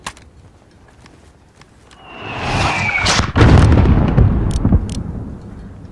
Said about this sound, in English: There's still a mortar out there.